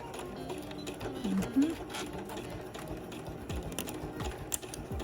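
A sewing machine stitches slowly in the ditch of a Renaissance bodice seam, giving a close, rapid mechanical whirr and ticking that starts and pauses, with someone talking over it.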